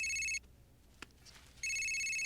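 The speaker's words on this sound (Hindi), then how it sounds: "हाँ देखा, पापा का फोन आया" A telephone rings in two electronic bursts, the first cut off after a moment and a second starting after a short quiet pause, loud and close with no talking.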